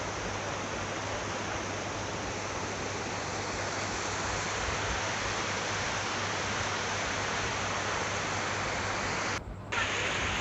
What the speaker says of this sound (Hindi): सिर्फ नदी का आवाज़ सुनिए,